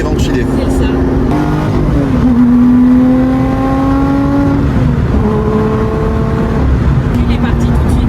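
A Lotus Exige 430 Cup Stage 1 with a full titanium exhaust and about 500 horsepower revs up and down, climbing and falling in pitch, close and loud, while people talk over it.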